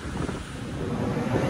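Strong wind buffets the microphone on Maroubra beach in Australia, a steady broadband roar with low gusty rumble and surf-like wash, loud and continuous with no voices.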